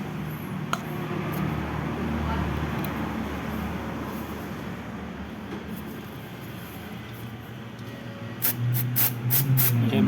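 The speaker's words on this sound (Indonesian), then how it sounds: "Saya bersihkan pakai karburator spray." Carburetor cleaner spray hisses steadily onto the oil drain bolt of a Kia All New Rio during an oil change, a continuous close spray with a brief louder burst near the end.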